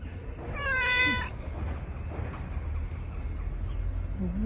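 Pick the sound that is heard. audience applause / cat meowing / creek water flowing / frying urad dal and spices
cat meowing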